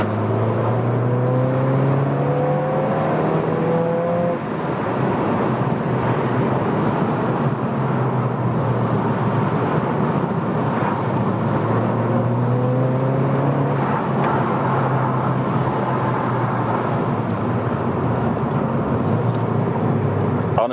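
Mountune Fiesta ST3 hot hatch driven hard along country lanes, engine droning and climbing through the revs with repeated rising pitch sweeps as gears change, heard steadily from inside the cabin under a constant rumble of road noise.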